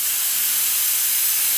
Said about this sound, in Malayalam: ഫസ്റ്റ് വിസിൽ കഴിയുമ്പോൾ തീ കുറച്ചിടാം.